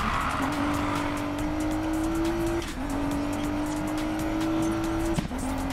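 Simulated car engine in the Need for Speed Payback racing game drones steadily under tire squeal, its pitch climbing through two gear shifts in a loud, continuous run with no talk.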